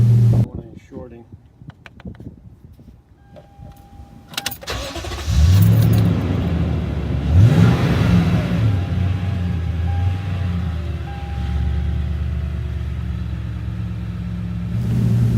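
A Toyota Tundra pickup engine cranking and catching after a battery change, then settling into a steady low idle rumble close by, with a few clicks and knocks before it starts.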